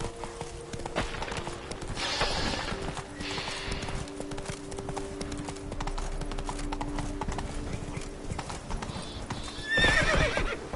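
Horse in The Witcher 3: Blood and Wine, with rhythmic clip-clop of hooves on the move, a loud whinny, and a brief gruff voice over the galloping.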